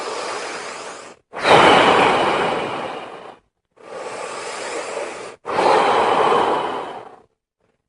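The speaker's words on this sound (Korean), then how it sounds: "속에 있는 걸 다 내뿜고 뒤로 마시기 이런 숨을 쉬어야 되지 돼요." Deep breathing demonstrated as a calming technique: two cycles of a full, forceful exhale followed by a long inhale, each breath loud, close and broadband, separated by brief pauses, with no talking.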